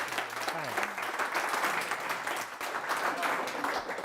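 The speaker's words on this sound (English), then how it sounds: "I think a round of applause." A crowd breaks into steady applause, clapping continuously throughout with a few voices faintly mixed in beneath it.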